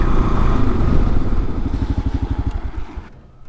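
A 2022 KLR650 motorcycle engine runs close by after pulling over, a steady low rhythmic thumping that grows more distinctly pulsed before fading away at the end.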